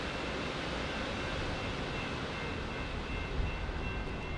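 A British Airways airliner at San Diego airport sends a steady, even roar across the whole clip. It sounds fairly distant and constant with no talk over it.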